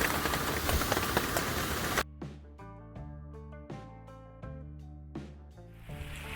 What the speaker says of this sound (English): It's still downpouring rain